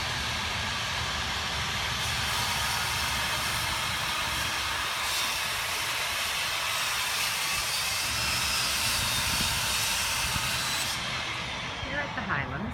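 A neighbor's bandsaw runs inside an apartment building, a loud, continuous mechanical whir and hiss that holds steady for the whole stretch before easing slightly near the end.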